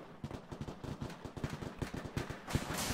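Dense gunfire from an ArmA 2: Operation Arrowhead battle crackles in rapid, uneven bursts of sharp shots. Some land close and loud, others sound more distant, ending in a heavier burst.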